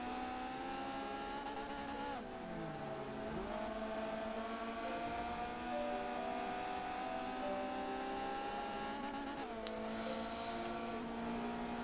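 Renault Clio race cars lapping the Brands Hatch Indy circuit: continuous high engine drone with gear shifts and rising, overlapping revs as several cars pass, loud and steady throughout with no talk.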